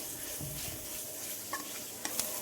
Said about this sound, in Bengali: সবগুলো গুঁড়ো মশলা দিয়ে একসঙ্গে মশলাগুলো মিশিয়ে নিলাম